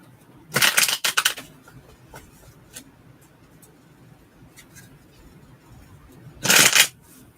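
Tarot cards are shuffled in two quick, crisp riffling bursts, one near the start and one near the end, with soft handling sounds and quiet room noise between them.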